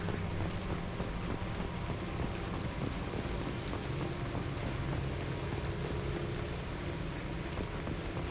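Steady, dense rain pours throughout in Mass Effect 2, a constant broadband hiss with scattered drop patter and a low rumble underneath, no voices.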